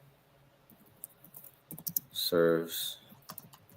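Soft, rapid keyboard clicks patter in the foreground, with a brief word spoken partway through.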